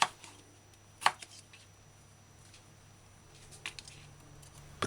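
Irish potatoes are diced into cubes with a knife, giving a few isolated, faint chopping taps at scattered moments over a quiet background hum.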